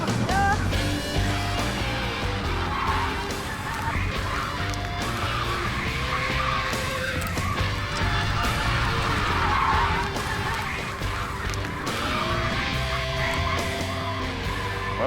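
After a truck collision, a car's tires screech and skid in long wailing squeals over roaring engine and crash noise, loud and sustained throughout with no clear talking.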